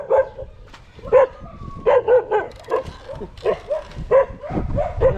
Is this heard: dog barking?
yes